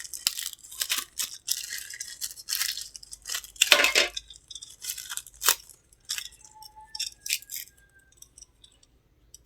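A switch and socket are fitted onto a homemade electrical series test board, giving close, irregular plastic clicks, scrapes and rattling handling noises, with brief pauses and no voices.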